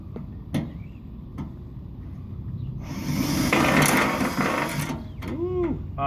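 A punch tool is punching holes in a Dodge Ram fender panel, with a few sharp isolated clicks followed by a couple of seconds of rapid, close mechanical chattering. A voice speaks briefly at the end.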